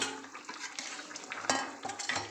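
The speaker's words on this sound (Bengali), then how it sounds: "টমেটোগুলো দিয়ে দিচ্ছি" Tomatoes tipped into a pot of koi fish curry, a burst of wet sizzling with spoon scrapes and clatter against the pot, close and fairly loud with no voices.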